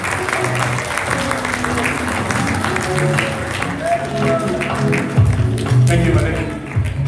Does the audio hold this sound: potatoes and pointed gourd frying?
no